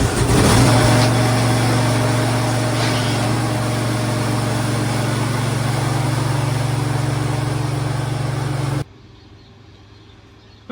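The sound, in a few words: Bobcat skid steer engine running as it is driven out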